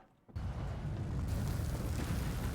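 A Micro Fire Nado fire tornado in a tornado survival video game erupts after a brief quiet moment into a loud, sustained roaring rumble that carries steadily to the end.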